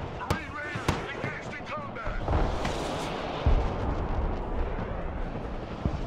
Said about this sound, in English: Beautiful HIMARS strike.